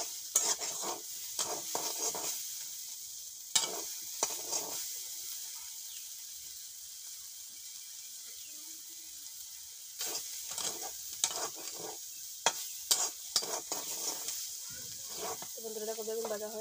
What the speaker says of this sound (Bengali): তো নামালাম, বেগুন ভাজা হয়।